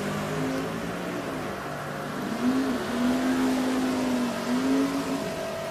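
During a drag race pass between a 1968 Chevelle and a 1988 Mustang at Richmond Dragway, an engine drones at a distance with a steady hum that swells midway into a higher sustained tone.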